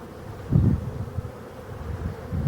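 Honey bees buzz around filling hives under pressure from Asian hornets, a low droning hum with soft swells as insects pass near the microphone, mixed with light wind outdoors.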